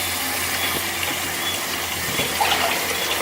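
Tap water runs steadily into a kitchen sink while raw chicken is rinsed for a Caribbean brown stew chicken, a constant broadband gush that stays even and close for the whole stretch, with no talking.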